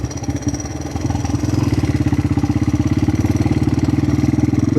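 A Honda XR200R dirt bike engine with a slipping clutch chugs with a rapid, steady pulsing beat, loud and close, its revs rising without the sound of the bike pulling away.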